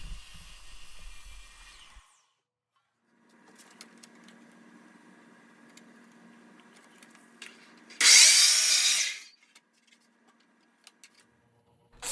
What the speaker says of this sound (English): Next, I'm going to cut the hanger lengthwise to the exact size.